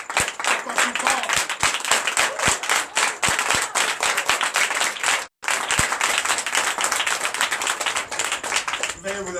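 A church congregation claps and cheers steadily through a night deliverance and prophecy service, with dense, loud applause that breaks off briefly midway and then resumes, while a voice speaks over it.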